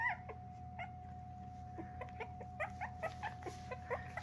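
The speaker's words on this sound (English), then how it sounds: "I woke the singing puppies of Madagascar up." Puppies crying and squeaking in short, scattered high yelps over a steady background hum and a faint whistling tone, none of them very loud.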